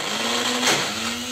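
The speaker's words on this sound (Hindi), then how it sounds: "ग्राइंडर को हमने मिक्सी पे लगा दिया है और हम ऑन कर रहे हैं।" An electric mixer grinder blends hummus ingredients, chickpeas with olive oil and tahini, producing a steady loud motor whir with a constant hum and a brief surge in the middle, heard alone with no talking.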